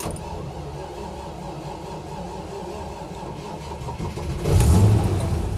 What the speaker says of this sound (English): Starts well after a little bit of churning and settles down and idles nicely.